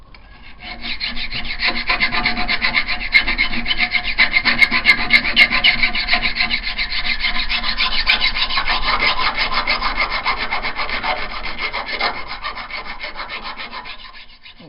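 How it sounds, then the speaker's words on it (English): A hand file works the edge of a knife blade made from saw blade steel, producing a continuous rhythmic rasping scrape of close, loud back-and-forth strokes with no speech. "what I'm doing now is just filing to establish that edge."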